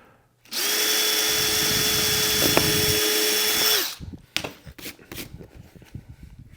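A power drill bores a pilot hole in a garage install of a motorcycle saddlebag mounting system, a loud steady whine for about three seconds that stops abruptly, followed by light handling clatter.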